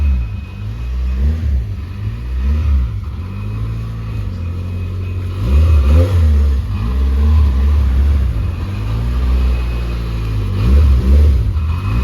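A car pulls up with its engine revving, a loud mid-pitched roar rising and falling in repeated blips over a steady low rumble, close by, with no talking.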